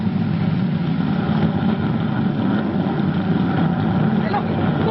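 Spaceship rocket engines firing to break free of a crater's grip, a steady low roaring rumble that holds constant throughout, with speech mixed in over it.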